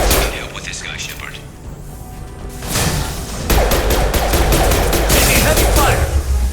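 Heavy gunfire rages in a firefight in the PC game Mass Effect 2 Legendary Edition, with a muffled voice early on before dense, rapid bursts of shots and cracks erupt and keep hammering loudly to the end.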